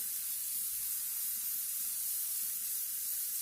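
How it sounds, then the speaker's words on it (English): A steady, continuous hiss of olive oil being sprayed from a can into a pan, close and even, with no talking. "I am going to spray some olive oil in this pan."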